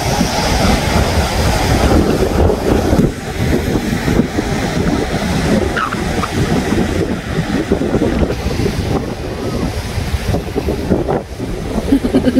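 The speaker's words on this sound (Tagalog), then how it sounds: "Ang lakas ng alon." Strong waves break along the rocky coast at Smygehuk near Trelleborg, Sweden, in a loud, continuous roar. Heavy wind buffets the microphone, and no one speaks.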